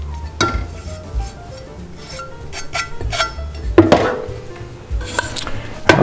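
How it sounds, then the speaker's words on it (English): Fresh rosemary is chopped quickly with a knife on a board, a handful of irregular sharp thuds and knocks with clinks of utensils in between, close and dry, no voices. "we'll give that a quick chop. Just kind of break it up."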